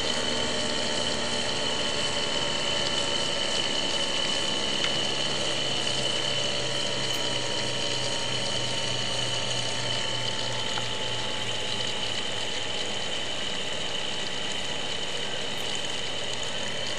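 Optical-sensor-triggered pulse motor running on after its power is switched off, a steady close mechanical whir with fine rapid ticking and a humming tone that drops away partway through, no talk.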